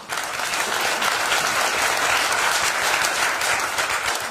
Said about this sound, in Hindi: जो आराम से बैठे वो तो ताली जोर से बजा सकते हैं